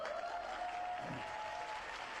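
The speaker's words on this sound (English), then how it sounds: "And they clapping." An audience clapping at a stand-up style routine, a steady, fairly faint wash of applause heard from a distance.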